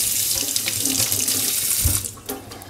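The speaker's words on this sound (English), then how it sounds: "just wet it a little bit" Tap water running steadily into a sink to wet a brush for cleaning a bread banneton, a loud, close, continuous hiss that briefly shifts near the end as the brush passes under the stream.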